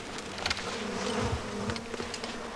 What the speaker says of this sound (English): Oh, these midges are...